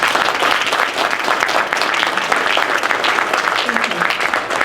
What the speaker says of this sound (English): I just want you to give another round of applause for our speakers.